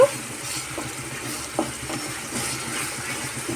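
Beetroot halwa cooking in ghee is stirred in a pan, giving soft scraping strokes over a gentle, continuous sizzle, close and steady, with no talking.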